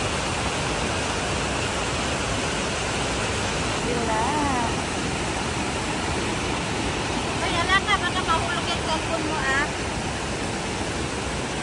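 Flowing river water at Madai rushes steadily and loudly throughout, a broad continuous wash with people talking over it.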